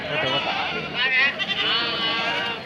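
Young goat or lamb bleating at a busy livestock market in Tumakuru, the wavering cries rising amid steady crowd chatter and people talking close by.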